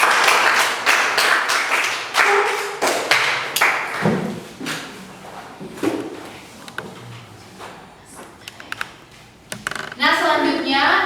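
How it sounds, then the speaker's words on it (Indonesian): A small audience claps at a religious education class, a burst of irregular hand claps that is loud at first, then thins into sparse taps and thuds, with people talking briefly. "Oke, kita beri tepuk tangan."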